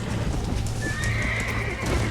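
Galloping horse in the Red Dead Redemption video game, with steady close clip-clop hoofbeats and a whinny over a constant low rumble during a race, no talk.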